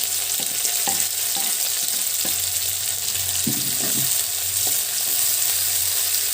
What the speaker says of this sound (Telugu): ఇది ఒక 2 నిమిషాలు వేగనిద్దాము